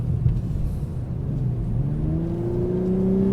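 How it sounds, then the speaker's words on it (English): A sports car engine, a Lexus LC500 or Corvette Grand Sport in Sport Plus mode, drops to a low gear and revs steadily higher, a smooth rising drone heard from inside the cabin. "In Sport Plus mode, we get sort of like a downshift to the lowest gear at the highest RPM setting"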